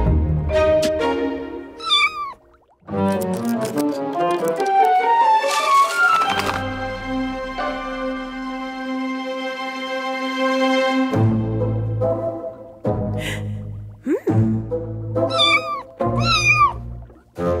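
A cartoon cat meows repeatedly in short, bright cries, loud and close, mixed with bouncy musical tones and a few thunks in a children's animated show.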